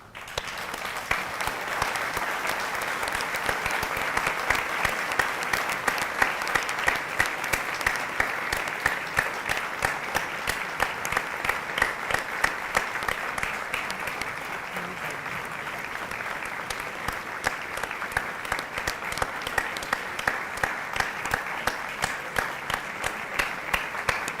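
Sustained, loud audience applause fills a large hall at an IIM Lucknow event as dignitaries exit, a dense, even wash of clapping that holds steady for over twenty seconds.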